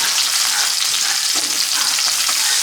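Skinless longganisa sausages sizzle on a barbecue grill, a loud, dense, continuous crackle heard close up with no talking.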